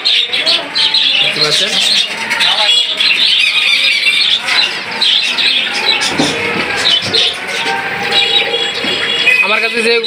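Caged doves and budgerigars kept for sale at home chirp and squeal loudly and continuously up close, while someone talks over the birdsong.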